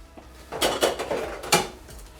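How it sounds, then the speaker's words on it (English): Dishes and cutlery clatter as dirty dishes are cleared away, giving a few short clinks and knocks at moderate volume with quiet pauses between them and no talking. "Do you see any dirty dishes?"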